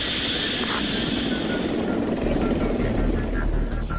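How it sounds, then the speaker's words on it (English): An A160 unmanned helicopter carrying a Forester antenna climbs to altitude with a chase helicopter alongside, producing a loud, steady rotor and engine drone that continues throughout. "Shadowed by a chase helicopter, the A160, carrying the Forester antenna, climbs to its programmed altitude for the test to begin."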